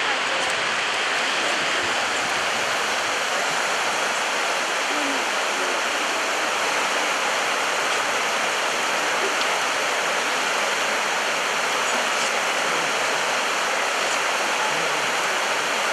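A rushing mountain river torrent roars in a dense, steady wash of water noise, loud and unbroken throughout with no pauses.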